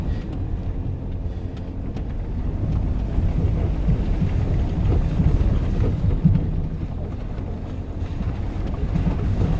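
A Land Rover Freelander 2 on a muddy green lane pushes through a puddle with a loud, continuous rumbling wash of water and road noise, heard from inside the cabin.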